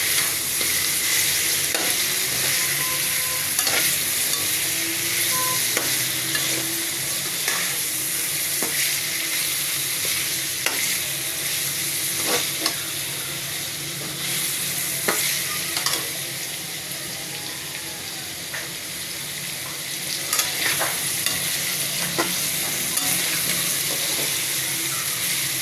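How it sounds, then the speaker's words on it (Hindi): Green chillies and bay leaves frying in oil with a little salt in a pan over medium flame, a long steady sizzle with intermittent spoon scrapes and stirring clicks, close and even throughout, no speech. "मीडियम फ्लेम पे इसको फ्राई करेंगे।"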